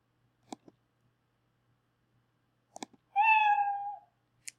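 A single cartoonish cat meow sounds as the built-in sound effect in Scratch, a clear falling tone lasting about a second, preceded by a few soft clicks against silence.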